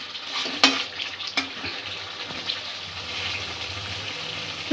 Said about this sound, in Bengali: মশলাটা ভালো মতোই কষা হয়ে গেছে।